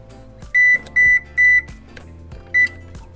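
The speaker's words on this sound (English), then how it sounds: "we're going to preheat our oven again to the lowest setting" An oven control panel emits four sharp electronic beeps while being set to preheat, three evenly spaced in quick succession and a fourth after a short pause, loud and close over faint room noise.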